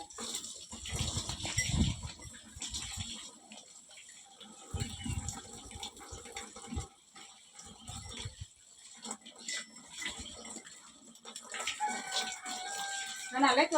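Water splashes and pours over a cow being bathed outdoors, arriving in bursts between quieter stretches, with a person talking over it.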